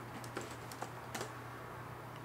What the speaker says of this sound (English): Just typing that in.